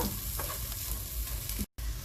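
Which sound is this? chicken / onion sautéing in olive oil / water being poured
onion sautéing in olive oil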